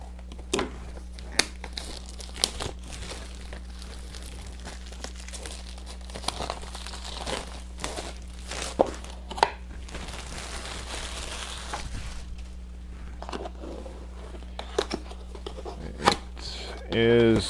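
Plastic wrapping on a boxed item, crinkled, torn and slit with a knife, with a string of crisp rustles, snaps and scraping cuts up close, ending in a longer tearing rip.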